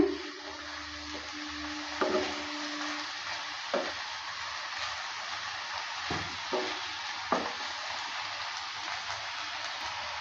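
Gima greens with salt sizzle softly in a pan while a spatula stirs them, giving a faint continuous hiss with a few scattered scrapes and taps, heard alone without speech.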